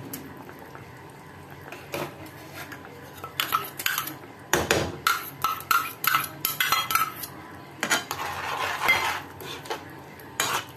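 Mashed potato is tipped into a pan and mixed for a potato curry, with a burst of close, loud metal spoon scrapes and clanks against the pan, irregular and busy, after a quieter stretch of occasional taps.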